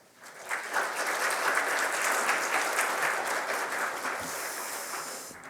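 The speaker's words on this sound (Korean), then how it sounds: "우리 목사님 나오실 때 환영하는 의미로 박수로 또 맞도록 하겠습니다." A church congregation claps to welcome the pastor at a Sunday worship service, the applause swelling quickly, holding steady for several seconds, then gradually thinning out.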